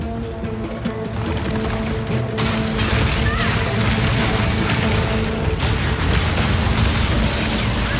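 Siege Cascade skill fired from a siege crossbow with permafrost bolts in Path of Exile 2, a dense, continuous roar of booming impacts and crashing, sloshing rumble that swells and holds loud throughout, layered under game music.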